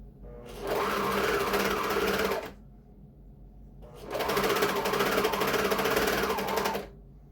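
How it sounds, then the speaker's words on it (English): Serger sewing machine stitching the back seam of a t-shirt, running in two steady buzzing bursts of about two and three seconds separated by a quiet pause, close and clear. "I'm going to put this under the serger, and then I'm going to guide it with my hands"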